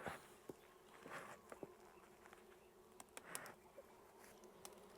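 Honey bees buzz in a steady drone deep inside a hive on a Maui farm while it is being opened and rocked, with several sharp knocks and clicks of the hive parts cutting through the hum.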